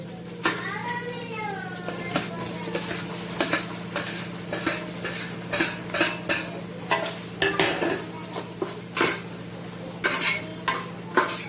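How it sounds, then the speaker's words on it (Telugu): Tomatoes go into a pan of well-fried onions for a Nellore-style fish curry, with close clattering and scraping of a spoon against the pan and a steady low hum beneath, clearly audible over faint background. "ఇప్పుడు టమాటాలు వేసుకుందాం"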